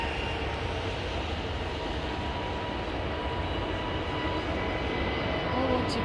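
Steady broadband roar of an aircraft on a wet runway during landings and departures, a continuous rushing wash with faint engine tones, loud and even from start to finish.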